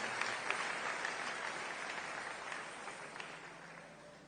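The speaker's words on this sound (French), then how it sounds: "Nous acclamons la chorale." A church congregation applauds the choir during a service, a sustained wash of steady clapping at moderate distance with no voices over it.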